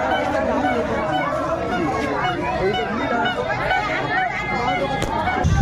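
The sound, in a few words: crowd at a fair after rain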